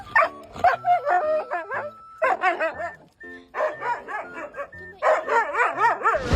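A pet dog greets its returning owner with loud, close bursts of yipping barks and high whimpers, an excited, nearly continuous string of sounds with only brief pauses.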